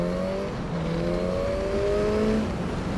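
A Suzuki GSX-S950 naked motorcycle engine revs and pulls through the gears while riding, a steady droning tone rising in pitch in repeated sweeps, continuous and moderately loud throughout.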